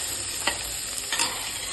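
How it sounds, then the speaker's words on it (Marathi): Green chilies and curry leaves fry in hot oil in a pan, a soft continuous sizzle broken by a couple of brief stirring scrapes. "मिरची चांगली भाजली गेलेली आहे कडीपत्ता पण चांगलं भाजलेला आहे आणि थोडं आपण मिक्स करून घ्यायला"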